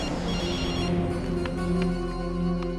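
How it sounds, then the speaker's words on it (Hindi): A telephone rings in a Hindi TV serial scene, a steady electronic ring over background music with faint vertical bursts repeating through the short stretch, no voices. "बड़े मौके से फोन किया तुमने"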